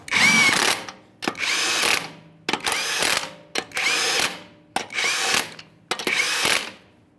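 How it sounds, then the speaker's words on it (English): A power tool spins on the 21mm lug nuts of a 2015-2020 Ford F-150 front wheel, with six separate loud whirring bursts, each starting sharply and winding down before the next one. "Start on all 6 of your 21mm lug nuts."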